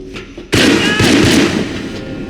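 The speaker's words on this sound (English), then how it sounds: "Fireworks." Fireworks in the video game 007 Agent Under Fire: a loud sudden burst of booming bangs and crackles that erupts and rumbles on for about two seconds, close and dominant.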